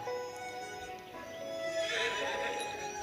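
A horse in the open-world MMORPG video game Sword of Justice neighs and its hooves clip-clop at a steady, moderate level over a continuous game background, with no talking.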